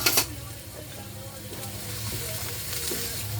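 Eggplant pieces sizzle in a hot pan for Sicilian caponata, a close, steady hiss after an initial burst as they drop in, with light stirring noises.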